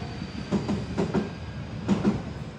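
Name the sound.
train passing by on nearby tracks in Japan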